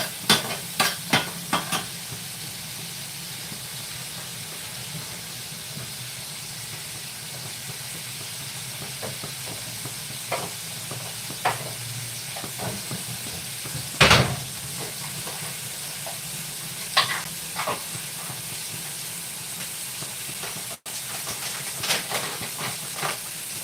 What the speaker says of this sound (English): I'll just cook it and saute for some time